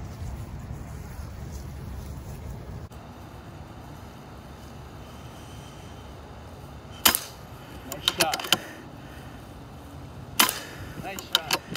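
Shots fired at an iguana during a removal job pop as a few sharp, fairly quiet cracks, one alone and then a short cluster followed by another, over outdoor ambience with people speaking.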